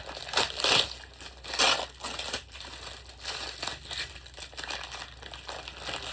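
Plastic wrapping on a returned parcel, already opened by customs, crinkles and crunches as it is cut with scissors, in loud irregular bursts with quieter rustling between them.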